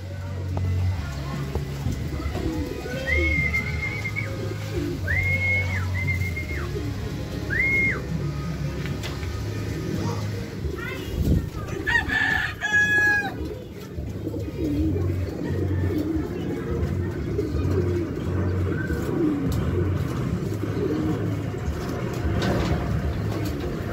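Racing pigeons coo intermittently in a loft, low murmuring calls mixed with a few whistles and background noise while people talk nearby.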